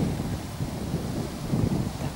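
Wind blows steadily outdoors on a hot day in Nizhneudinsk, a low, constant rush with gustier swells near the end and no voices.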